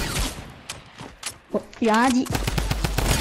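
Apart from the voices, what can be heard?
sniper gunfire in a video game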